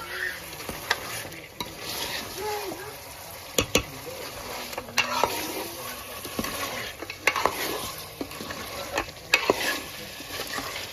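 Cooked mutton curry being stirred in a pan, with a continuous scraping, stirring sound and a soft sizzle underneath, close and fairly steady, plus a few sharper knocks of the spoon against the pan.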